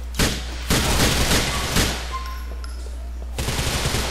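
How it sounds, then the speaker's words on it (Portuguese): Rapid gunfire from a shootout in the video game GTA IV, several loud bursts of automatic fire in quick succession with short pauses between, close and dominant, ending in a final burst. "O Nico para o tiroteio pra tomar refrigerante."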